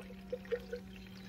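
Coolant poured into the coolant reservoir of a BMW X5 E70 with an N63 engine, a short soft trickle with a few brief gurgling splashes, close by and fairly quiet.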